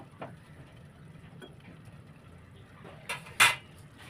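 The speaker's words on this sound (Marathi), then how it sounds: "झाकण लावून घेते." A lid goes onto a cooking pot of boiling water set aside for rice-flour dough, in a quiet kitchen. A few faint clinks come first, then a sharper metallic clatter near the end.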